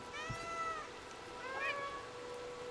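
Cat meows in the video game Stray: two faint, high meows a second apart over a steady background hum.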